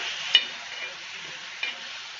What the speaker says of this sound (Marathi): तेलामध्ये आपण मिरची जो ठेचा बनवलेला आहे तो चांगला फ्राय करून घ्यायचा आहे